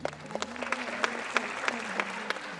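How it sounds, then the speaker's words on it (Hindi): An audience at a music event applauds in scattered, fairly sharp claps at a soft level, while someone speaks over them with a steady voice. "ये तालियां 2 बार में आपने जितनी बजाई"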